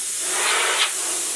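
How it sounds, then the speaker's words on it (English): Compressed air sprays inside a PlayStation 4 console, a steady close hiss across the whole stretch with a couple of brief louder bursts. "And next you just spray inside this fan"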